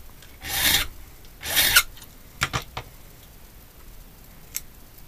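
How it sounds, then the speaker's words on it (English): Hand filing of a hand-made key with an impression file: two longer rasping strokes, then several short quick scrapes and a final light rub, close and clear against a quiet background. "One more quick rub. So the impression file makes it nice and easy."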